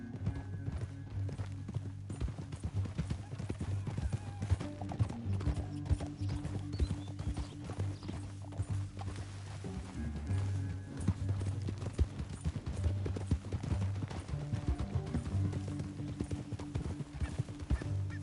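Galloping horse hooves in rapid rhythmic clip-clop with occasional whinnies, over a constant rumbling background of game sound effects in Red Dead Redemption 2.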